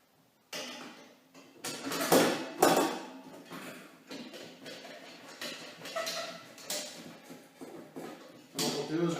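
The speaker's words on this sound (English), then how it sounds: "Put the bolt through here. Put the washer/spacer on." Metal bolt and washer fitted onto a rack of colored drawers for Lego bricks, with close clinks, taps and rattling handling noises in bursts, a voice talking over parts of it.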